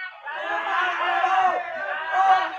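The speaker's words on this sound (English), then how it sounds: "There's a crowd coming at me. Holy crap. It sounds like a riot." A crowd shouts and roars together like a riot, a dense, sustained wall of many voices yelling at once that swells slightly toward the end.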